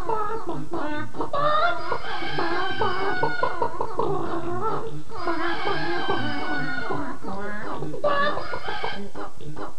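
Staged comic chicken clucking and crowing on a 1992 Spanish TVE1 television contest show, loud repeated bursts of clucks close up, with bits of speech mixed in.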